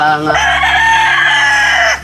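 A rooster crows loudly and close by among native chickens, one long drawn-out call over a low steady hum.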